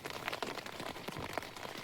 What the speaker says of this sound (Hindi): टेंट के भी ऊपर बारिश पड़ रही है, आवाज़ सुनी होंगी